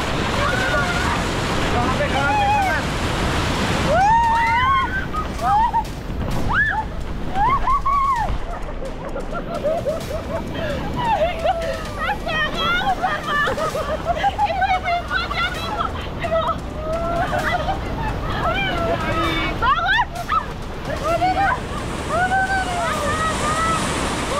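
Large ocean waves break and wash onto the shore on the coast of Central Java, Indonesia, a steady roar of surf and sloshing water with wind buffeting the microphone and people talking and calling out over it.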